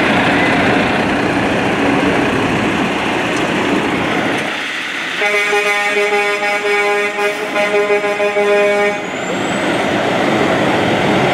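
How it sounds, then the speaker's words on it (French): A tow truck from a 24-hour towing service rolls in a festival parade, its engine rumbling loudly before a long, blaring air horn blast. An announcer speaks in French at the start. "Avec un autre camion qui suit en arrière dans la même compagnie."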